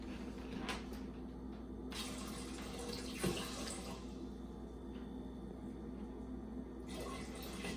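Tap water runs steadily into a pot being filled for cooking beans, a continuous rushing stream at low level with a few brief clunks and handling noises.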